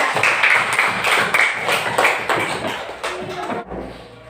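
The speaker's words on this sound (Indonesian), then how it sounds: "Tepuk tangan untuk kelompok 3" A classroom of students applauds for the third group, a dense patter of many hands clapping at once, fairly close and steady before fading into a sustained tone.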